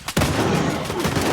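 Enemy gunfire in S.T.A.L.K.E.R. 2: Heart of Chornobyl, heard as a loud burst of shooting that swells into a dense, noisy rumble for a moment.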